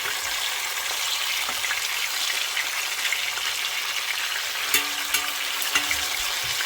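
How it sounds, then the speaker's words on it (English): Fish frying in a pot for Jamaican stew fish, a dense continuous sizzle close by, with a few faint clicks near the end. "So we now turn over to the other side to get fried."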